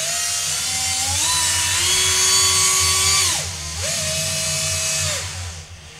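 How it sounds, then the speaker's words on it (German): A cordless screwdriver twists wire clamped in a vise, giving a loud, steady motor whine that rises in pitch, dips briefly, then spins up again before winding down near the end. "das andere Ende einfach in einen Akkuschrauber oder so einspannt und dann vorsichtig mit etwas Gefühl das Ganze einfach dreht"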